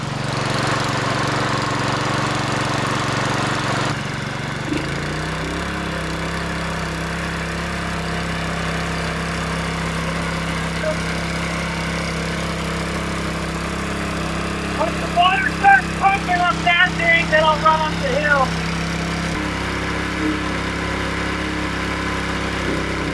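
A small engine running at an outdoor off-grid water tank setup. It hums at first, then settles into a steady, mid-pitched idle throughout, with a brief burst of rattling clatter partway through.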